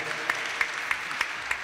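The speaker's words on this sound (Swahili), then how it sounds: "tuwapigie makofi mazuri kwa kututembelea" A church congregation at a PCEA Kamiti Parish Kikuyu service claps for visiting guests in steady, rhythmic beats, about five sharp claps over a constant crowd murmur.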